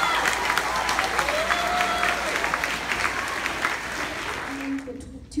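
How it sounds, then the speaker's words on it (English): A crowd applauds loudly and steadily for about five seconds at a National Junior Honor Society induction ceremony, then the clapping fades out. "Give these guys a round of applause."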